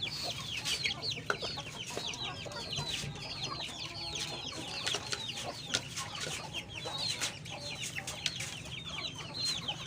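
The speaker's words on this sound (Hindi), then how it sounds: "ये पहले इन चूज़ों को और मुर्गी को दाना डाल रहे हैं।" Aseel chicks cheep constantly in high, rapid chirps while a hen clucks low during feeding on a small poultry setup. The sound is faint and ambient, with light scattered knocks and no talking.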